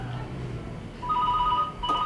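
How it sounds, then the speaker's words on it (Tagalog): A telephone rings with a steady electronic trill, starting about halfway in and repeating, over a low room hum in an indoor domestic scene. "Oh. Telepono ay."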